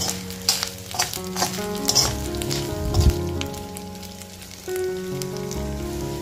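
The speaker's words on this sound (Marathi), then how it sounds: "मंद गॅसवर मस्त लालसर भाजून घ्यायचे, म्हणजे हलकासा लालसर रंग येईपर्यंत भाजून घ्यायचे मासे" Dried fish frying in a pan over a low flame, with a steady crackling sizzle and occasional scrapes and clinks as the pieces are gently stirred, close up with no voices.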